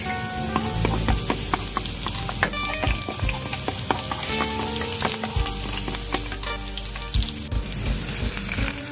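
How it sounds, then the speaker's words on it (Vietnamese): Fish fries in hot oil in a Vietnamese home kitchen, giving a loud, continuous crackling sizzle with dense popping spatters throughout and no talk. "Giờ mình cho dầu vô mình chiên cá."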